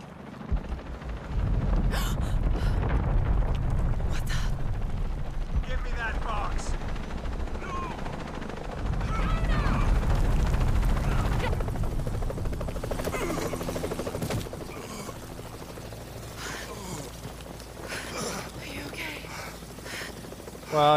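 Helicopter rotor thumping and engine drone in the video game Shadow of the Tomb Raider, steady and fairly loud, mixed with game effects and brief sounds like gunfire.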